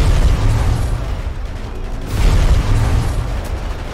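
A ground power wave ability from a Thanos mod in GTA 5 lets loose a sustained, heavy rumbling blast with deep booming low end, loud and close, swelling again midway with no voices over it.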